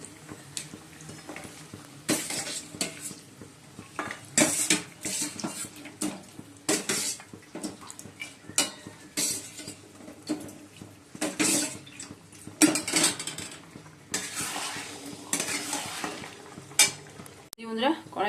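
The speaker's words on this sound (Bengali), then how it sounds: "মশলাটা কষিয়ে নিয়েছি। এবার মাটনগুলো দিয়ে দিচ্ছি।" Mutton pieces go into a hot kadai of fried spices and are stirred repeatedly, with scraping ladle strokes, clanks against the metal pan and a steady sizzle running under the whole stretch, close and fairly loud.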